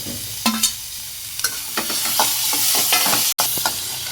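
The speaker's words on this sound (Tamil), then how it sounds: "மிளகாய் எல்லாமே போட்டு ஒரு ரெண்டு நிமிஷம் வணக்கிக்கலாம்" Onion, curry leaves and chili sautéing in a pan make a steady close sizzle, with repeated scraping stirs of the spoon breaking through; there is a brief dropout near the end.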